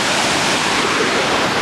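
Rushing water at Bridal Veil Falls: a loud, steady broadband roar of falling water, dense and continuous with no breaks or voices.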